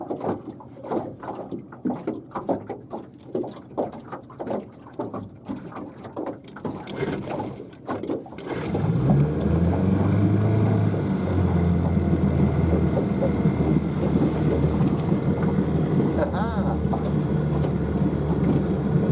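An Evinrude outboard motor cold-started on a boat, with a quiet trolling motor and rhythmic pull-cord sounds at first, then the engine catching and settling into a loud, steady running drone.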